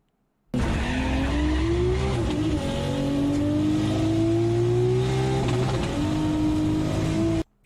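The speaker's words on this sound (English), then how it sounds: "Wow, the Supra just sounds so slow." A Toyota Supra drives hard on a race track, its engine droning steadily and rising in pitch through the gears, with tires squealing, loud and continuous from start to finish.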